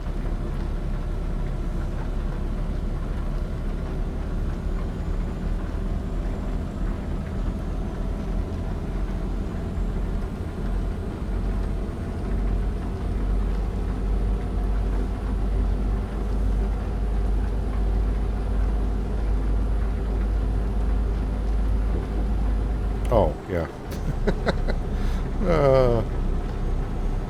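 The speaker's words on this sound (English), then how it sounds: "I'm still listening to the engine." The Detroit diesel engine of a truck in American Truck Simulator drones as a steady low rumble, loud and constant throughout, with a brief burst of other noise and a short spoken remark near the end.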